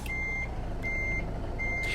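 Reversing beeps from a truck backing up in American Truck Simulator's winter Kansas setting: three steady, fairly loud high-pitched tones, each lasting under half a second, spaced evenly over a constant engine rumble with no talking.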